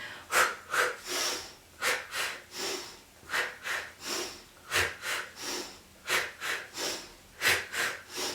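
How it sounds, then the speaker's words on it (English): Heavy, exaggerated breaths repeat in a steady rhythm, sharp nasal inhales alternating with forceful exhales, close and loud with no talking. "Now I'm breathing big for you, just by example."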